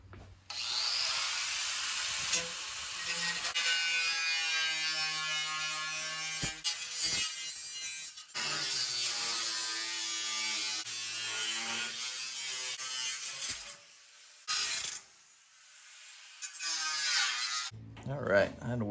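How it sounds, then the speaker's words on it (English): A power tool cuts pieces out of a rusted filler panel on a 1970 Plymouth Roadrunner, a loud, steady high-pitched whine running in long stretches with short breaks, rising and falling as the blade loads, with speech at moments. "I'm gonna try to cut some pieces out the filler panel"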